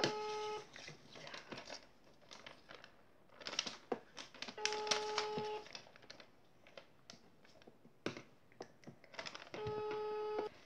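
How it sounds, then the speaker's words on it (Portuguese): A phone on speakerphone placing a call, with repeated beeping tones and pauses between them amid some handling noise and faint voices. "Ela vai ligar pra Germana."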